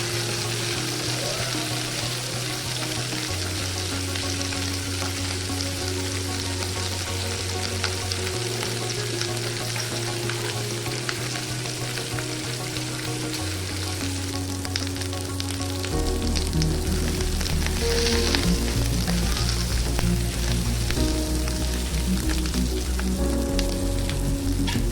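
Chilli chicken with onions frying steadily in a pan, a loud, continuous close sizzle with occasional stirring, with music playing throughout and no talk.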